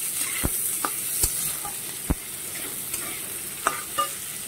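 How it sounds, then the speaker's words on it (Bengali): Onions and potatoes frying together in a pan, a steady close sizzle with a few sharp stirring scrapes and clinks scattered throughout. "এবার এই আলুর মধ্যে দিয়ে দিলাম পেঁয়াজ। পেঁয়াজগুলো একটুখানি মোটামুটি ভাজা করব।"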